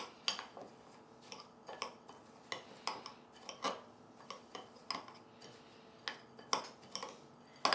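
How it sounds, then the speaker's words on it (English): Close, irregular scraping and clinking of a utensil against a bowl as breadcrumbs and melted butter are stirred together, quiet with no talking. "All we're going to do is mix this together."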